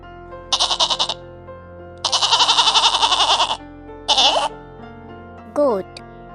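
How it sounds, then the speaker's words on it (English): Goat bleating, heard as a sequence of loud, close, tremulous calls: a short burst, a longer wavering bleat, then a brief cry and a final short rising call, set against a faint steady background hum. "goat,"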